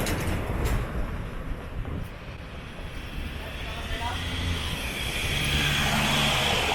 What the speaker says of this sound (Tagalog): because I'm on the highway, the transnational highway.